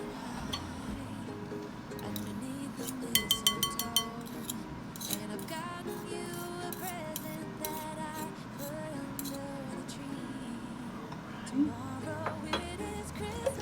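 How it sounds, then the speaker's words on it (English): A whisk clinking and scraping through a cream cheese and sour cream mixture in a bowl, rapid metallic ticks in bursts, loudest early, over quiet background. "Let's use a whisk and see if we can smooth it a little bit better."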